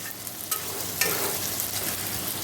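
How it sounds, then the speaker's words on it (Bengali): Potatoes with turmeric, cumin powder and sugar are stirred in a hot frying pan, giving a soft steady sizzle with a few scraping strokes of the spoon, close and moderately quiet. "দেখো আমি আলুটা ঢেলে দিয়ে ওর ভেতরে হলুদ দিয়ে, জিরের গুঁড়ো, মিষ্টি দিয়ে ভালো করে নেড়ে নিচ্ছি।"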